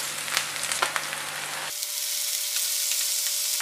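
Onion, ginger and garlic paste sizzles in a hot oiled pan for a mushroom masala curry, a steady, close hiss with crackling pops that grows fuller and louder partway through as the paste spreads out.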